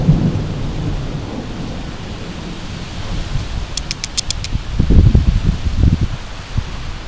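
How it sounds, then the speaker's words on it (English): Faint, distant thunder rumbles low beneath steady rain during a thunderstorm, swelling in the second half with soft rustling and a brief series of high ticks in the middle. "Some faint thunder and more rain."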